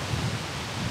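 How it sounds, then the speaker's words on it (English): Steady broadband wind buffeting the microphone on a mountain pass, a continuous rough rumble and hiss with no voices, loud and close. "It's really windy."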